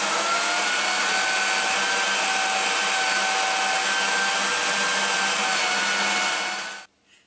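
A power drill whirs steadily at high speed while drilling into a new gear for a Celtic 14, running continuously for about seven seconds before abruptly stopping.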